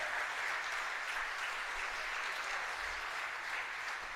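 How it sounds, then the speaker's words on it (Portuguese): A church congregation applauds God, a soft, even wash of distant clapping that holds steady for about four seconds with no voices. "Você pode aplaudir a Ele?"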